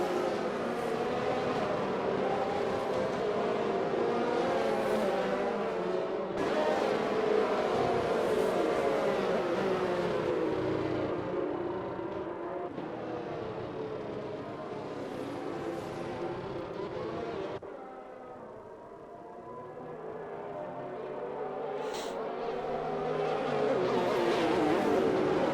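Race cars run at Imola in a racing video game behind a safety car, weaving to warm their tires. Engines drone continuously, rising and falling as cars pass, with one brief dip, under faint commentary.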